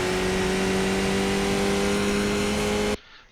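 A Skip Barber race car engine in the iRacing sim at Okayama's short track drones loud and close with a steady, unbroken pitch, held for nearly three seconds before cutting off abruptly, with no voices.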